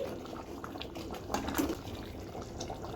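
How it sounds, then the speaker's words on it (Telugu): Egg soup simmering in a pot on a stove, a steady low bubbling that runs softly throughout with no talking. "సూపు చిక్కగాయ వరకు మరగనివ్వాలి"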